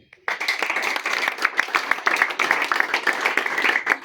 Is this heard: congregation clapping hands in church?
yes